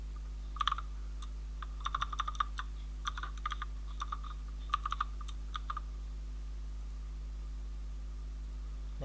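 Quiet computer keyboard typing comes in short bursts of clicks over a low electrical hum, then stops and leaves only the hum.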